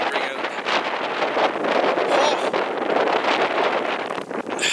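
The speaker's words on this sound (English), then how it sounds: "blustery out. It is snowy and blowy." Blustery wind on a farm during a snowstorm roars steadily and loudly against the microphone, with gusty rumbling and buffeting throughout and no speech.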